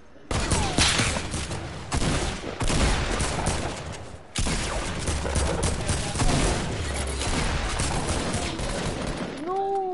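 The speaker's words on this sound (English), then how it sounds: "I was trying to shoot out the traps." Submachine gun fire in a video game, loud dense bursts rattling almost nonstop, with a brief break near the middle before the shooting resumes.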